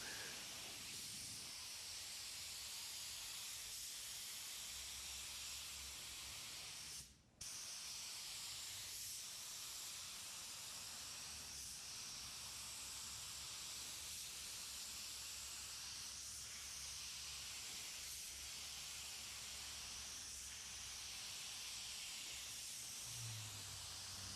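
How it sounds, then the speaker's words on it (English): A Sagola 3300 GTO spray gun lays clear coat onto a car panel from about four inches away. It gives a long, steady, close hiss that breaks off for a moment near the middle and then resumes. No one speaks. "I am spraying about 4 inches away from the panel"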